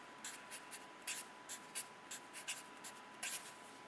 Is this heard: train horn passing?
no